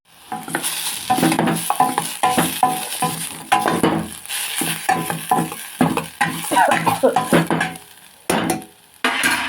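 Potato and moringa leaf curry seasoned with salt and chilli is stirred in a hot pan, with steady frying sizzle under repeated scraping strokes of a spoon against the pan, loud and close, with a brief pause near the end.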